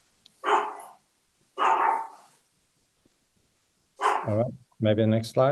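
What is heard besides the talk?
dog barking in a meeting participant's room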